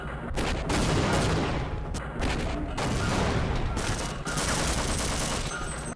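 Automatic turret fire rattles in Half-Life as dense, loud bursts of rapid gunshots with short pauses between volleys, close up and dominating the scene.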